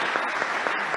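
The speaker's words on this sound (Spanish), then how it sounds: "Bolivianos, por favor, aplaudan a lo que él hace." An audience at a Bolivian televised interview applauds, a steady wash of clapping filling the brief moment at moderate loudness.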